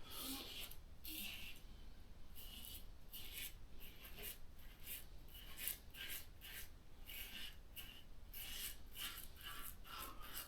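A Stirling Ozark Mountain safety razor scrapes across skin in a quiet, steady series of short rasping strokes, close-up and faint, repeating at an uneven rhythm.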